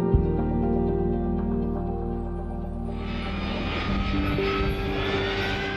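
Engines of a US Air Force E-3 Sentry aircraft roar in a loud, steady drone with layered hum, the tone brightening and filling out partway through as the power rises.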